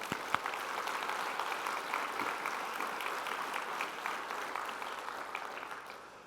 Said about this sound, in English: So, like I said, round of applause.